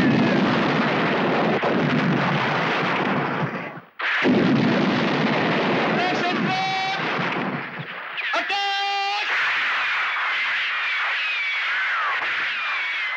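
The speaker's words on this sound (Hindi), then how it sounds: "section two, section two hand grenade" Hand grenade explosions and gunfire in a 1984 Hindi war film battle, with a roaring wall of blasts and rattling fire, a brief drop out, then more explosions, with shouted voices and a musical tone mixed in.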